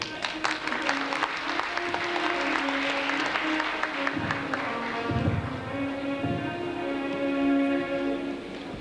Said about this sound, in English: Amongst your loud applause